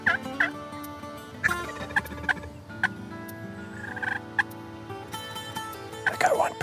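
Wild Osceola turkeys gobble repeatedly outdoors in Florida, loud rattling calls at irregular intervals, some close and some farther off, with a burst of several overlapping gobbles at the end.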